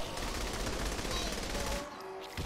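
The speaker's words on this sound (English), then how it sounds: "I can hear a minigun down there" Rapid sustained minigun fire in Saints Row: The Third rattles on continuously for about two seconds amid game noise, then cuts off abruptly, leaving a quieter tail.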